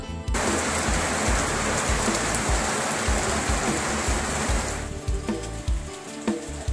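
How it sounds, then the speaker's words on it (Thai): Steady rain pours down loudly outdoors as a dense, even hiss, then abruptly drops to a softer patter with scattered drips and knocks near the end. "นี่ครับบรรยากาศฝนตกๆแบบนี้สบายสบายครับ"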